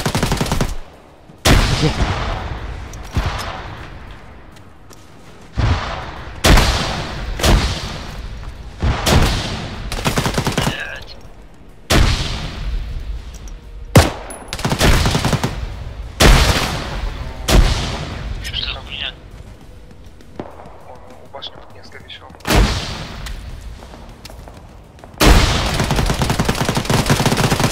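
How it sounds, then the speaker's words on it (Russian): Enemy gunfire in ArmA 3 squad combat, loud bursts of rifle and machine-gun fire and heavy booms in repeated volleys with short pauses, while players' voices talk between the shots. "Вот это враг стреляет там, за забором."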